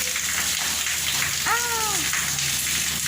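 Steady rain pours over Lahore during a monsoon shower while children bathe in it, a dense even hiss throughout, with one brief tonal call rising over it near the middle.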